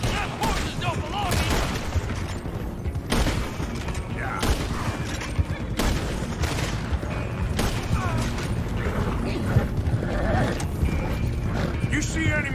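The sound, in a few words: horses galloping, video game Red Dead Redemption 2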